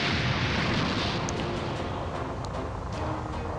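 A huge, loud explosion in the Dragon Ball Z Kakarot video game sets off a continuous, dense rumbling roar that holds steady for several seconds, with faint crackles flickering above it.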